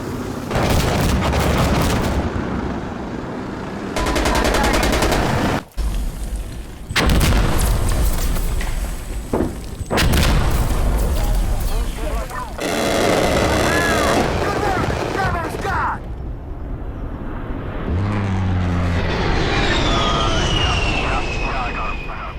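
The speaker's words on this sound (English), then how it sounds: "Firing rockets." Rockets fire repeatedly in the video game Insurgency Sandstorm, with loud bursts and booming blasts arriving in irregular clusters. An aircraft-like roar sweeps through near the end.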